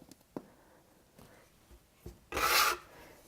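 A bench scraper slides across a board to separate homemade gnocchi, giving one short, fairly loud rasping scrape near the end after a few faint taps and quiet handling noises.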